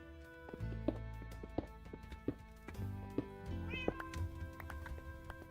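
A Minecraft cat meows several times, short, soft mews spaced irregularly over faint background game music.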